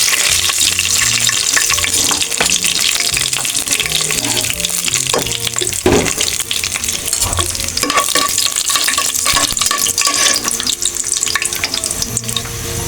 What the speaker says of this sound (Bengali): আমি এখন সাদা এলাচ দারচিনি আর একটা কালো এলাচ দিয়ে দিলাম এখন তেজপাতা আর শুকনো মরিচ দিয়ে দিলাম